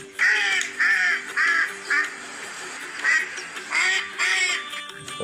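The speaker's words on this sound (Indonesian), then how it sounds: "Ada bebek lagi teman-teman." A duck quacks in a rapid series of loud, raspy calls close by, coming in short bursts with brief gaps between them.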